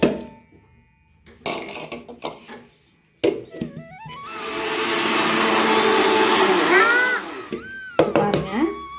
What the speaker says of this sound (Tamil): ஒரு மிக்சி ஜாரில் சேர்த்துக்குவோம். இதை நல்லா பவுடர் ஆக்கிக்குவோம்.